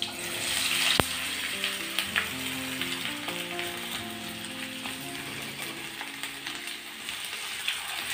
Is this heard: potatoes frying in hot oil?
yes